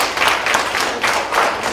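At a Southampton County school board meeting, the audience applauds students receiving awards: a loud, close patter of many hands that swells and dips in a few pulsing waves.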